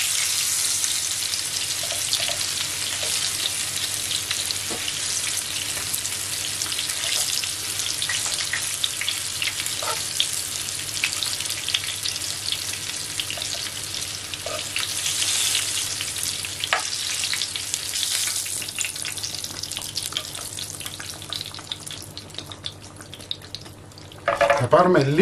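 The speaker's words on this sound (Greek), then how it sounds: "τα έχουμε βάλει όλα να τηγανιστούν καλά" Food frying in hot oil in a pan, a dense continuous sizzle and crackle filling the whole stretch, fairly loud and close, with a few faint clinks and a sharper burst near the end.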